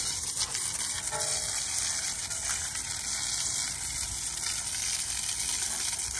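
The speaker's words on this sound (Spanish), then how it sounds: "Sin echarle agua, vamos a aplicar en este momento un poquito de agua." Water sprays onto a car wheel rim being cleaned with a cheap rim cleaner, a steady broad hiss of spray that runs unbroken from start to finish.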